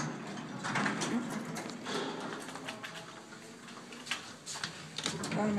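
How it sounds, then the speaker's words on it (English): Hydraulic elevator machinery from Inland Elevator Co. runs steadily at close range, a mechanical whir and hum with light ticking and clicking against a faint room murmur. "Elevator equipment's over there."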